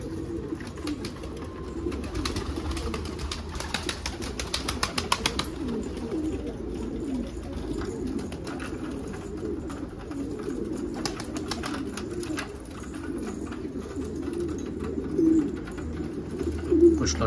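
Pigeons coo continuously inside a loft, overlapping low throaty calls from several birds close by, with occasional faint rustling and soft clicks in the background.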